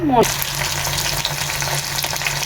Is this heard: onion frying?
yes